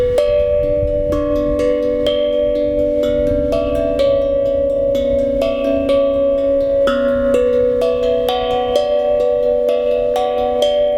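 A melody played on a double-sided glucophone tongue drum, clear ringing metallic strikes in a flowing rhythm, some notes sustained while a couple of extra notes are added, close and prominent with no talking.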